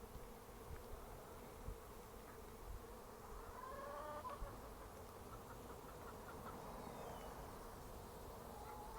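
Honey bees, apparently drones, buzzing in a backyard, a faint continuous hum with a few passing insects, and hens clucking softly in the background.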